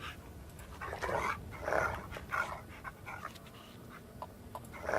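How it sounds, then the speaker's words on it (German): A dog in the video game Dark Tales gives a string of short, mid-loud barks and low growls with panting between them, heard alone without talk. "So, können wir denn den Hund weglocken?"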